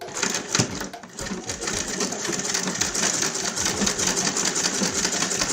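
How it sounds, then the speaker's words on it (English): A sewing machine stitches fabric lining for an Ankara print makeup pouch, running in a steady, loud, fast mechanical whir with rapid needle clatter throughout. "Let's go to the sewing machine."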